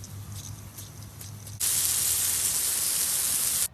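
Brake parts cleaner sprays onto a driveway oil stain as a loud, steady, close hiss that starts abruptly and keeps going for about two seconds before cutting off, after a quieter stretch.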